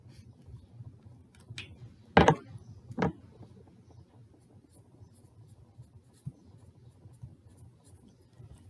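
A felt-tip marker writes a word on a board, with two short, sharp scratchy strokes near the start over faint background hiss and a few soft ticks afterward.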